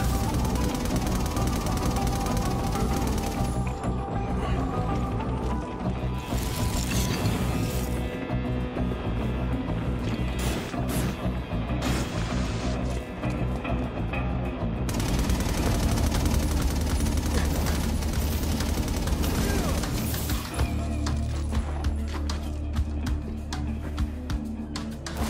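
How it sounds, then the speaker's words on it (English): Automatic turrets fire in the game inFAMOUS Second Son, producing long sustained bursts of rapid gunfire mixed with booming impacts and rumble, loud and continuous throughout. "This is gonna be awesome! Automatic turrets!"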